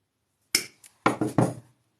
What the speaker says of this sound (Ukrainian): На другій стороні так само забиваю